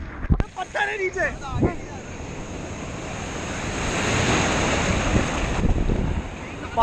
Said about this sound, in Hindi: पानी की लहरें है यार